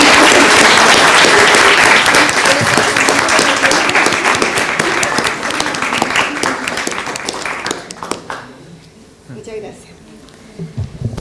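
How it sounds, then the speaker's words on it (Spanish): Loud, dense applause from an audience at a university psychology program ceremony, a steady roar of many hands for about eight seconds before thinning out and fading to scattered claps. "Un aplauso, por favor."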